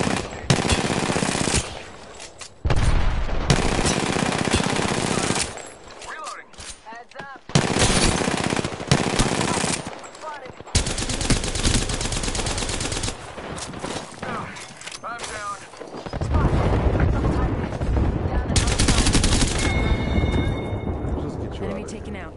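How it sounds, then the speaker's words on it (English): Heavy automatic gunfire in Apex Legends on PS4, long loud sustained bursts broken by short pauses, with game effects and a voice talking throughout. "Shots fired. And they're hitting me."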